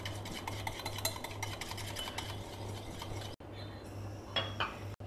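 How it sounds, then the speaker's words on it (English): Homemade curd whisked briskly in a bowl, with rapid rhythmic scraping and light clinks of the whisk against the sides, close and continuous, then a pause and a few final strokes. "we will whisk it very well so that it becomes a smooth mix"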